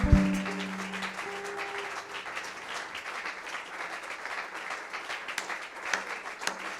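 A church congregation applauds in acclaim of Jesus Christ, a steady, sustained wash of many hands clapping that sounds somewhat distant, with a brief tone at the start fading out.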